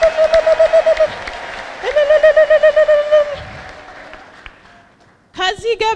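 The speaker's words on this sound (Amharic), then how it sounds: "ከዛ በቃ እልልታ ለኢየሱስ" A congregation ululating at a church healing service: loud warbling trills in rapid pulsing bursts, a pause, then a sharp fresh burst at the end.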